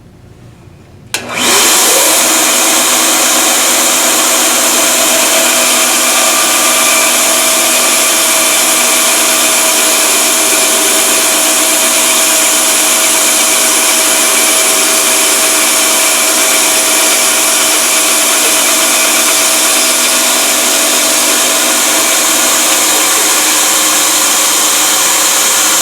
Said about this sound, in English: Waited for the vacuum system to shut off.